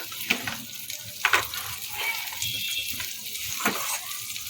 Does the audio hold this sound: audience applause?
no